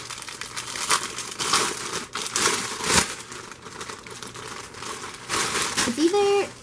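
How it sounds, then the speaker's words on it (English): Crinkling plastic wrapping rustles loudly and continuously as a tote bag is pulled out of it, with someone talking over the sound in between. "Let me take it out of the plastic."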